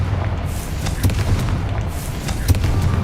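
A Confringo spell explosion in a Harry Potter video game, heard as a deep booming blast with a couple of sharper impacts over steady background ambience, no one talking.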